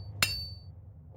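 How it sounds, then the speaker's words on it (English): A single sharp metallic strike rings out in a video game as an object is hammered back into place, a bright clink with a short fading ring, heard alone over a quiet low background. "And then probably hammer it back into place."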